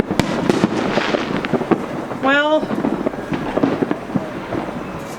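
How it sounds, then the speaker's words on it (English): Fireworks burst at a Salute to America Fourth of July celebration: a string of sharp, crackling bangs with a rising whistle in the middle, over crowd noise and some speech. "his salute to America was followed by fireworks and the band playing."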